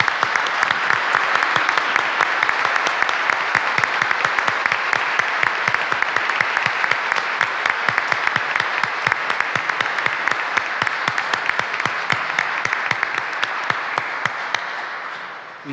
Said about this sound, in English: I think we owe a big round of applause to all those who have served us so well.